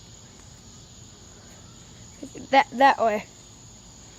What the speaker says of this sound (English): And you hear that cricket on the left side.